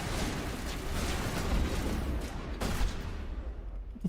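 Rapid gunfire from a sci-fi shooter game, Mass Effect, on a cold planet, a dense, sustained barrage of shots and impacts filling the whole stretch at steady loudness with a few sharper bursts.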